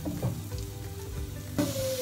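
Carrots sizzle and fry in a pan with garlic and onion, a steady crackling hiss with a few clinks of utensils and a brief louder burst near the end, no talk.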